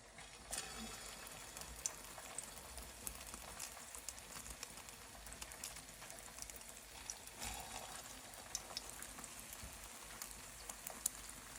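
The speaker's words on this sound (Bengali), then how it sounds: "তেলটা গরম হয়ে গেছে এখন আমি এক এক করে কাবাবগুলো ভেজে নেবো" Kebabs frying one by one in a modest amount of hot oil, giving a steady, dense crackling sizzle that runs close and unbroken throughout, with no talking.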